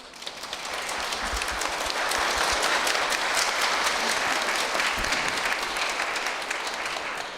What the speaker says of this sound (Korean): 여러분들이 이 할아버지 입장을 생각해서 박수 한번 하세요